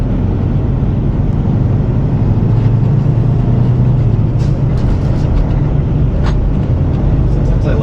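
A truck's engine runs as a loud, constant heavy rumble from inside the cab on the road, with a brief shift in tone partway through as the RPMs change during a gear change.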